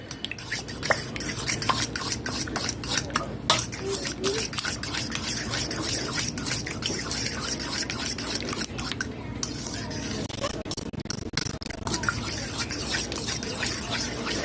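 Creamy macaroni salad being stirred in a large bowl with a big mixing spoon, giving a dense, continuous wet squelching and scraping with a steady rhythm, fairly close and with no talk over it.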